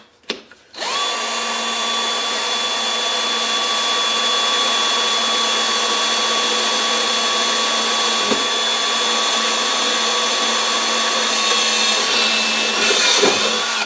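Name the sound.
drilling a pilot hole with a drill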